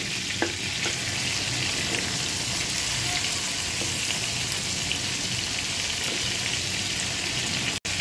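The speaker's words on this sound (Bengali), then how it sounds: "এভাবে ভাজা হয়ে যাবে দেখুন এত সুন্দরভাবে ভাজা হয়েছে যে আমার তেলগুলোও নষ্ট হয়নি" Prawn heads frying in hot oil give a steady, loud, dense sizzle with crackling pops that carries on unbroken for the whole stretch, with no voices over it.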